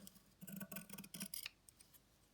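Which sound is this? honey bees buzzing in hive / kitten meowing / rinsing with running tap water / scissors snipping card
scissors snipping card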